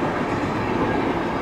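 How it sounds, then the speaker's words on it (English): A CSX freight train hauling boxcars rolls past close by, giving a steady, dense rumble and rattle of wheels on rails with no pause and no voices. "Lots of boxcars on this train."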